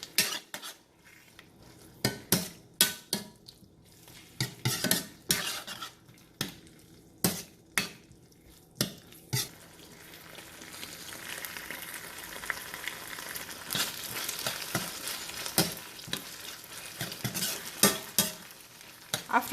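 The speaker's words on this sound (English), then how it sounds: "After giving a good mix with the sauces and capsicum" Broccoli Manchurian tossed with sauces and capsicum in a pan, a spoon scraping and clacking against the metal in repeated sharp strokes over a steady sizzle, with no talk.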